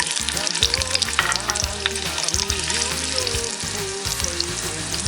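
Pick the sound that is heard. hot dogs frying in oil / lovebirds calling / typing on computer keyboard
hot dogs frying in oil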